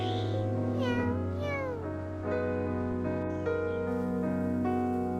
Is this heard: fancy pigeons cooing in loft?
no